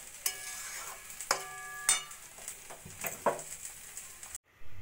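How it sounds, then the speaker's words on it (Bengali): Ghee stirred into vegetarian paneer masala in a pan, faint soft stirring and scraping with a few sharp clinks of a spoon against the pan, ending in a short silence. "ঘিটা নাড়াচাড়া করে মিশিয়ে নিয়ে আমি গ্যাসটা বন্ধ করে দেব"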